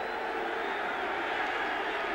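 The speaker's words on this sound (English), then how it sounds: "And this crowd, very vocal right now" A vocal football crowd roars at Schaefer Stadium during a 1980 Falcons–Patriots game: a continuous, loud wash of voices and cheering from a large distant crowd with no break.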